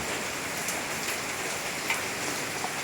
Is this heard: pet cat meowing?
no